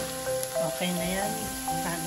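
Food frying in a pan gives a steady close sizzle throughout, with brief scraping and clattering over the hiss.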